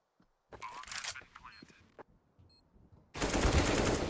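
Counter-Strike gunfire on the Nuke map crackles in clustered rapid bursts, a spray of shots at the start and a dense loud volley at the end, mixed with game sounds and excited commentary.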